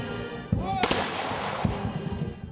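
Gunshots fired at a funeral in a Ukrainian village ring out in a couple of sharp reports with echo, one loud crack followed by a fainter shot, over an outdoor background.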